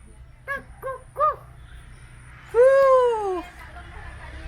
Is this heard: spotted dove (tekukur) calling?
yes